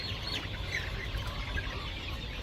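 Chicks on a poultry farm cluck and chirp during beak trimming, faint scattered calls over a constant busy background hum.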